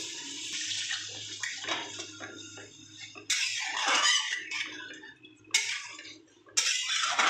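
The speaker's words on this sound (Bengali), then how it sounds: "পাশে গরম জল বসানো ছিল দিয়ে দিচ্ছি" Hot water poured into a Katla fish kalia curry with eggplant, several loud splashing pours separated by short pauses, with faint speech and kitchen clatter between them.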